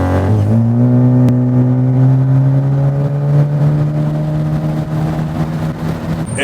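A Dodge Challenger Hellcat Redeye with rolling anti-lag holds a loud, steady high-rev drone close by, the engine note climbing slightly and then staying level, with a sharp pop early on and no talking.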